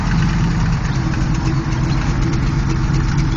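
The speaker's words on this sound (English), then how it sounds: "shuts off nicely and starts nicely" A Chevrolet Camaro V8, with a freshly broken-in cam and idle timing set around 10 to 12 degrees, idles loud and close with a steady, dense rumble throughout, and no one talks over it.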